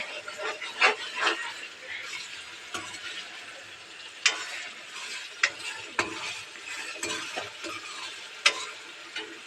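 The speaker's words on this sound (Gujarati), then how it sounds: "થોડી મંચુરિયમ તમે જોજો કેવી રીતે વઘારે છે" Manchurian stir-fried and tempered in a pan, soft sizzling with repeated sharp clicks and scrapes of a spoon against the pan, close but fairly quiet.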